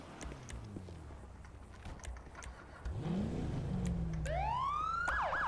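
A police cruiser siren from a modded FiveM game sound pack starts up partway through, wailing and sweeping in pitch, over a low engine hum and faint clicks.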